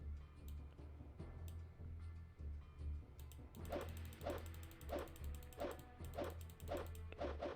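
A dog in the video game Arcanum barks and growls while attacking, its bursts repeating in a steady rhythm over low game ambience, faint and distant at first, then louder and more regular.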